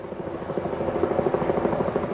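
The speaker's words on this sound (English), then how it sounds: "a Delta Boeing 727 airplane, like this one, was cleared for takeoff from Dallas-Fort Worth Airport" Delta Boeing 727 jet taking off from Dallas-Fort Worth Airport, a loud, steady engine roar with a throbbing, pulsing drone that holds strong throughout.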